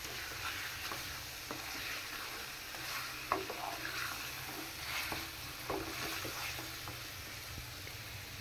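Chicken pieces and potatoes fry in a sizzling spice paste, with a spoon stirring and scraping the pan in irregular strokes over a steady close hiss.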